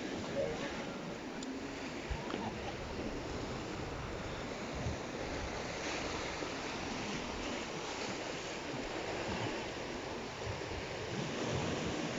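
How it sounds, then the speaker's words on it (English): Rough sea surf on a coast in inclement weather, a steady broadband wash of waves with wind noise running continuously at moderate level, with no distinct breaks. "Anyway, the sea's pretty rough still."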